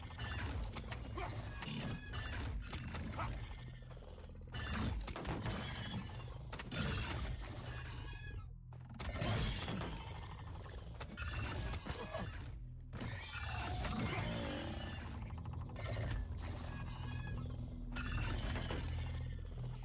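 Creature in the survival game ASKA smashing through a shield: a busy run of clanking, ratcheting mechanical impacts and crunchy breaking hits, fairly loud and continuous with brief pauses, no talking over it.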